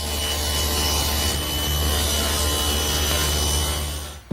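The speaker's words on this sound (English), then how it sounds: "Now I'll just run 4 pieces." A table saw set to a 10-degree bevel rips pieces of wood, a loud, continuous whine and cutting roar that runs unbroken before cutting off abruptly at the end.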